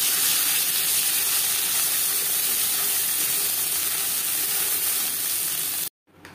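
Ghatkol leaf paste sizzles in hot oil with fried black cumin, a steady close and loud frying hiss that continues unbroken and then cuts off abruptly near the end.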